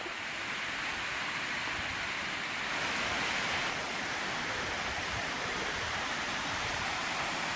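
A travertine waterfall in Falls Ridge Preserve, Virginia pours steadily, a dense, continuous broadband rush heard from nearby with no voices.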